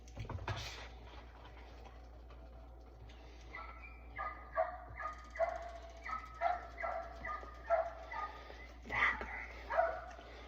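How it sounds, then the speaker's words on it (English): A dog barks repeatedly in short bursts, with a few whimpers and yips, fairly close, over a low background hum. "She didn't train her dog right. Fucking just barks and jumps on people."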